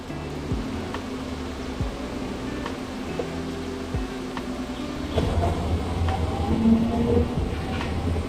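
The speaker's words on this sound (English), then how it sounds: "So just want to capture the train." A train in Tokyo rumbles steadily along with low mechanical drone and occasional clanks, growing slightly louder toward the end; no one speaks.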